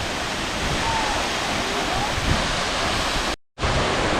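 Roaring waterfall at Tad Yeuang in Laos, a steady broadband rush of falling water heard close and loud, with a brief drop-out near the end.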